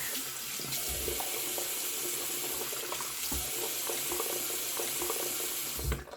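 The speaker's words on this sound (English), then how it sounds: "Wash my mug, shall we?" A mug is washed under a running kitchen tap, with a steady stream of water splashing into the sink and a few light knocks of the mug. It is close and continuous, ending as the flow cuts off.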